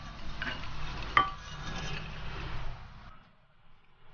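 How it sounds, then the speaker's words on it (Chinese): Fried noodles turned out of a hot oiled wok, a soft scraping and sizzling slide with a brief clink, then the sound drops away to near silence. "然后把面先倒出来"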